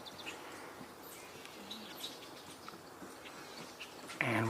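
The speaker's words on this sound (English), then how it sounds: "And we're hearing a gray catbird as well." A gray catbird calls outdoors amid a mix of other faint birdsong, its short chirps and mewing notes scattered across a quiet natural background.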